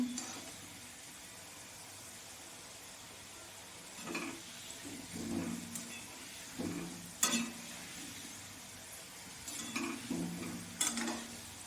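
Food frying in a pan while a Bengali sabu khichuri is made: a faint, steady sizzle broken by several bursts of stirring and scraping against the pan, with no talk.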